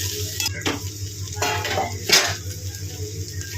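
A spoon scrapes and clinks in a pan while a curry of bitter palm fruit (munja) peel fries, with intermittent stirring scrapes over a soft sizzle.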